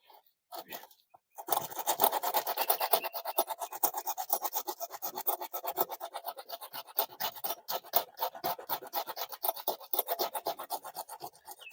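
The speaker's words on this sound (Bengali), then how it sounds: "তো প্রথমে আমি এটা সিরিজ পেপার দিয়ে একটু ঘষে নিই।" Sandpaper scrubbed back and forth over the inside of a tubeless tyre to prepare a puncture for patching, a close, dense rasping scratch in quick steady strokes after a brief pause near the start.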